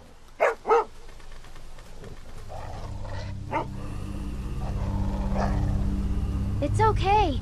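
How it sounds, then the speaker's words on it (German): Dog barking in The Walking Dead Season 2 game, two sharp close barks near the start and a few more later, mixed with voices talking and a low engine-like drone that builds steadily. "Der Hund nervt ein bisschen."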